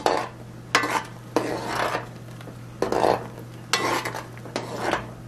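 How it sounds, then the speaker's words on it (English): A spoon scrapes and stirs around a pot of rice for arroz con dulce in several separate bursts, close and moderately loud, over a low steady hum from the stove. "now that it's starting to boil again, I'm just gonna stir"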